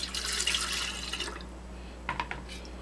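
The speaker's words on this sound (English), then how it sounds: "I'm going to pour about half of this in here" Melted coconut soy wax is poured into a container in a steady liquid stream that fades out, followed by a few soft drips and splashes, heard up close.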